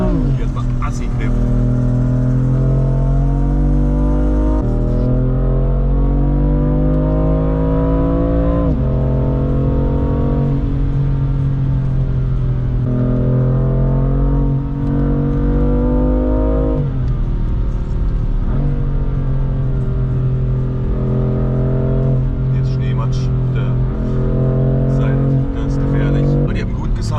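A BMW M4 is driven fast into a curve on snow, its engine droning loud and close from inside the cabin, the pitch sliding and climbing through shifts while people talk over it.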